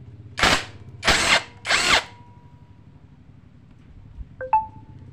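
An impact wrench loosens a bolt on a Yamaha Mio M3 scooter in three loud, evenly spaced bursts of about half a second each. A couple of short electronic beeps follow near the end.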